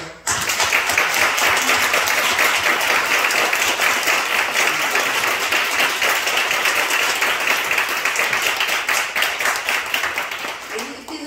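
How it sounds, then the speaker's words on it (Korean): A church congregation at an Easter thanksgiving service breaks into sustained applause, dense and steady for about eleven seconds before easing off at the end, with voices mixed into the clapping. "박수 쳐줘요."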